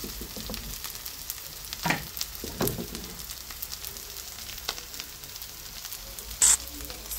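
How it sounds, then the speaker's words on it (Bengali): Garlic and five-spice sizzle steadily in hot mustard oil as a tempering for beef brain, a continuous close frying hiss with a few scraping stirs and a brief bright clink near the end. "সো সরিষার তেল দিয়ে রসুন ভাজা এবং 5 ফোড়ন দিয়ে আমি এটাকে বাগার দিয়ে দিচ্ছি।"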